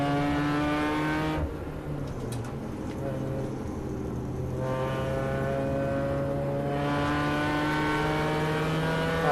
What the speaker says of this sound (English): M2 or M235i or whatever it is goes past.